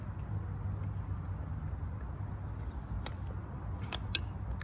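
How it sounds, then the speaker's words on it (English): Crickets chirp outdoors in a dense, steady, high-pitched trill that carries on unbroken, with a few sharper clicks near the end and no voices. "I hope you can hear for all the crickets"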